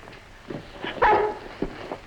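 A dog barking, a few short barks and a yip at moderate distance with a brief, louder bark in the middle.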